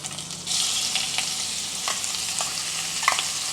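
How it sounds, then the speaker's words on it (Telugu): Grated bottle gourd sizzles steadily in hot ghee, a close, even frying hiss with a few light stirring scrapes and no voices. "ఇప్పుడు సొరకాయ కూడా వేయించుతున్నాను"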